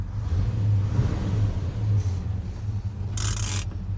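A restored Chevy Bel Air with a 327 V8 engine idling and revving, a deep steady rumbling engine close by, with a brief scraping noise near the end.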